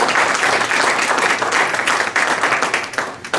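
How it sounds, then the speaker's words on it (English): An audience at a Hmong community gathering claps steadily for Matt Burke, a loud, dense round of applause that holds at an even level throughout with no talk over it. "Would everyone give a round of applause for Matt Burke for putting this honoring the Hmong community?"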